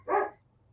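A dog gives one short, fairly loud bark, with a quiet background after it.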